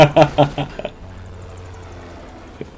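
Helicopter in Metal Gear Rising: Revengeance, a low steady rotor drone heard faintly behind a burst of voice at the start, holding on alone until a brief noise at the end.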